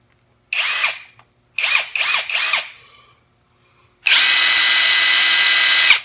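A Kimo 20V cordless 1/2-inch impact wrench fires four short whirring bursts close by, then runs in one sustained, loud high-pitched hammering stretch after a pause, with no speech.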